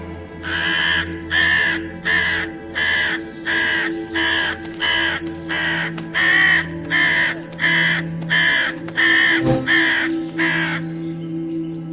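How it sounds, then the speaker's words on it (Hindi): A crow caws loudly and insistently, a steady series of about fifteen harsh, evenly spaced calls close by, with a low background hum underneath. "तभी कौआ चिल्ला चिल्ला के उस आदमी को परेशान करने लगता है।"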